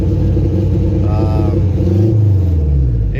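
A turbocharged car engine running at about 20 psi of boost drones loud and close from start to finish, a steady rumbling roar that shifts slightly in pitch toward the end.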